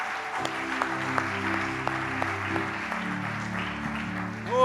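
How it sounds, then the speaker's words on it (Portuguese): A church congregation applauds steadily over sustained organ or keyboard chords, the clapping fairly soft and spread out, with a louder swell right at the end. "Dê um aplauso ao Senhor Jesus"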